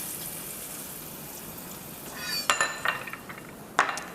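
Garlic and onion sauté in a pan already used for crispy pork: a soft, even sizzle, then a cluster of metallic spatula clinks against the pan near the end.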